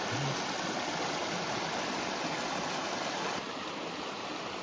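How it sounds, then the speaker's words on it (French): Water from a drinking-water spring in the mountains gushes in a steady, loud rush while bottles are filled, a continuous close splashing flow with no talk. "On va remplir nos bouteilles. Il y a une source d'eau potable."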